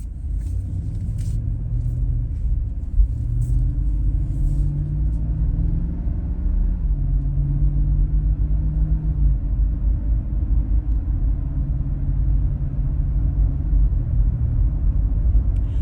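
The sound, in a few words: V8 SUV accelerating from a stop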